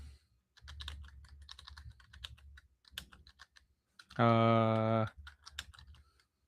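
Clicky computer keyboard typing in bursts of fast keystrokes, close and crisp, with a brief loud electronic tone interrupting near the end and a voice speaking in the background.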